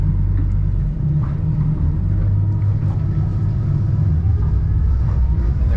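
Twin F200 outboard engines on a Hewescraft 270 Alaskan boat revving in reverse, a loud, steady, close low rumble that holds without a break and with no talk over it.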